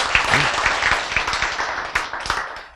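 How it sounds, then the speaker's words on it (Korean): Applause from a Korean church congregation during a sermon, starting fairly full with a brief vocal sound among the hands, then thinning into separate claps that fade out. "다 박수!"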